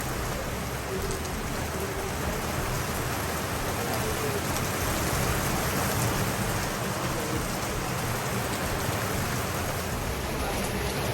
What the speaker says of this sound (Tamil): மழை அடிக்குது கட்டனில்